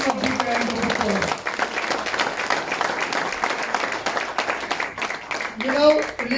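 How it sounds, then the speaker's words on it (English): A crowd applauds at a Joint Operation Centre function, honouring a colleague's hard work with a dense, continuous patter of many hands. A brief voice surfaces at the start and again near the end over the clapping. "Let's have a beginning of the grand applause"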